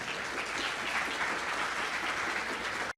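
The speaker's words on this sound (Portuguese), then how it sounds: "E uma salva de palmas, pessoal" Audience applause at a live event on BIM structural concrete design, steady clapping from a modest group that holds evenly for about three seconds before cutting off abruptly.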